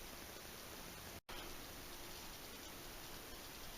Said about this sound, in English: The rain hasn't stopped up here